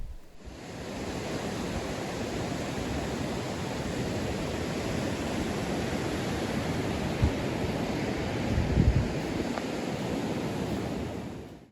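Steady roar of ocean surf washing onto an empty Southern California beach at low tide on an overcast morning, a continuous broadband wash with no voices, swelling slightly near the end.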